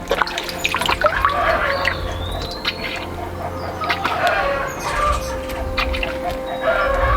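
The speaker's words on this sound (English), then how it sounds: "our hens are just going crazy over here" Backyard hens cluck and squawk excitedly in short, scattered bursts at moderate distance, alongside trickling water from a garden fountain and some nearby talk.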